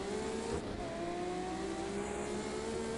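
A Ferrari Enzo engine drones steadily in the Project Cars 2 racing game, its tone holding and shifting slightly as the car drives on, loud and continuous with no talking.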